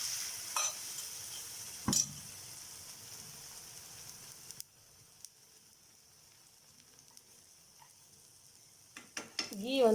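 Maida sugar dosa batter frying in ghee on a pan, a steady soft sizzle with occasional stirring or spatula scrapes and a louder clatter near the end.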